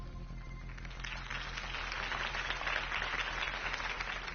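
Crowd applause swelling after Harvey Dent's campaign speech in the Telltale Batman video game, rising from quiet into a sustained, moderately loud wash of clapping.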